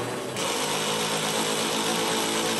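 A power tool runs continuously for a couple of seconds while tightening a bolt during assembly of a Tao Motor T-Force ATV, a steady close, loud whir with no talking over it.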